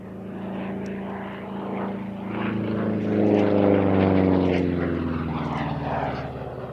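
A Republic P-47 single-engine propeller fighter flies past at an airshow, its loud, rough radial engine drone swelling as it comes nearer and then easing slightly, heard on its own without talk.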